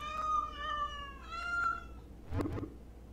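Cats in the video game Teen Titans Go Figure meow in two drawn-out, wavering cries, followed by a brief harsher yowl, all fairly close over a low background.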